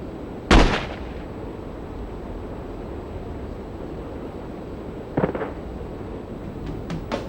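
Gunshots ring out in the No One Lives Forever video game: one loud, sharp blast near the start, then a second shot about five seconds later and a fainter crack at the end, over a quiet hum.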